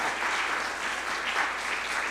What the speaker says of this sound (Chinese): 我们再一次的来拍手欢迎他们